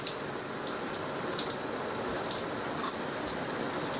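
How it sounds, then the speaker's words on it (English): Warm shower water runs in a steady, close hiss with light splashing, continuous throughout and with no talking. "Does that warm water feel good"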